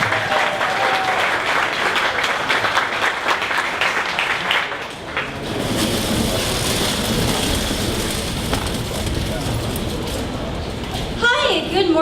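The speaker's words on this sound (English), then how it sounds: "So give a big round of applause." Big round of applause from a startup pitch event audience welcoming the next presenter, strong clapping that thins out partway through, leaving a murmur of crowd noise and some voices.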